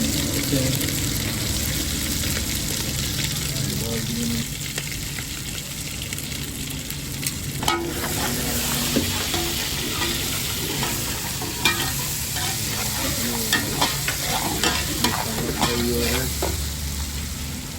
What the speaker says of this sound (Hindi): ये अदरक लहसुन का पेस्ट जा रहा है।